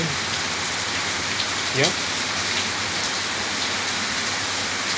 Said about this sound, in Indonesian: ini di Bali ini. Ini hujan